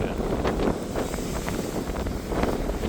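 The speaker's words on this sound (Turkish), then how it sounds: "Şimdi dönüyoruz iyice rüzgar karşımızda." Strong headwind buffets the microphone while riding an electric bicycle in Kadıköy, a constant rushing roar with gusty surges and faint background noise throughout.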